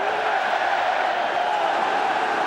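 A football crowd in a large stadium keeps up a steady, broad roar of cheering, loud and unbroken across the short stretch.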